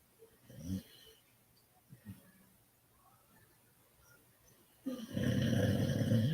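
A person snoring, with a couple of short nasal snores spaced a second or so apart, then a louder, sustained rasping snore building near the end, close by.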